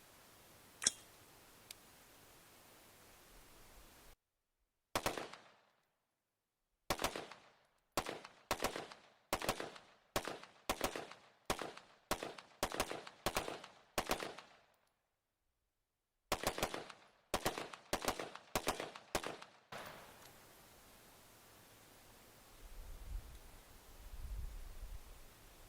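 A rifle fitted with an Effin-A MKII compensator fires 30 rounds at an outdoor range, loud sharp shots in quick strings broken by brief pauses, each crack ringing out, with quiet outdoor ambience before and after.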